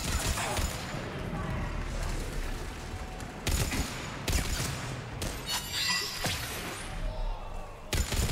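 Gunfire and a concussive shot ring out in Mass Effect 3 during a combat sequence, with dense, continuous bursts of shots and impacts layered with game effects and ongoing speech throughout.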